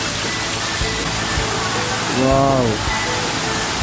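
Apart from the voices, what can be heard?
flowing water current near bathing spot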